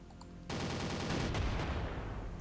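Gunfire from units in the World War II strategy game Panzer Corps crackles in a dense, continuous burst of rapid shots, fairly loud and alone without talk.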